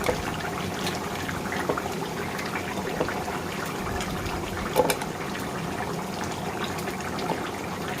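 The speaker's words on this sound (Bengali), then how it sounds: "ঢাকনা হয়ে দেখতেছি হয়েছে কিনা, বলক ফুটে আসছে" Fish curry with bottle gourd bubbles to a rolling boil in a covered pot. A dense, steady, close bubbling and gurgling wash continues without pause, with no voices.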